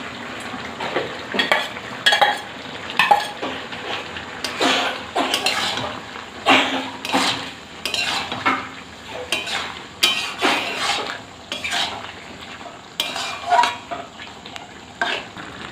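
Eggs fried earlier are stirred into a boiling capsicum curry in a pan. The utensil scrapes and knocks the pan in irregular bursts over a steady sizzle and bubbling, close and fairly loud, with no voices.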